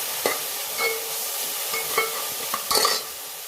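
Ground masala paste fries with browned onions in a pan. A bright, steady sizzle runs throughout, broken by several sharp scraping clinks of a spoon stirring against the metal.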